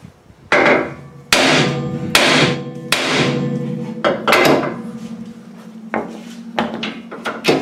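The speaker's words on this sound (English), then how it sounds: "let's get a hammer. Here goes." Sharp metallic hammer strikes ring out one after another, knocking out a split rubber A-frame ball joint on a Land Rover 110, about ten blows with uneven spacing and a lingering metallic ring.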